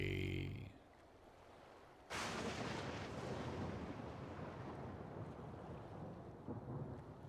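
A loud, close crack of thunder in the Final Fantasy XIV game world breaks sharply and then rolls into a long, heavy rumble with rain-like hiss, following a brief musical tone.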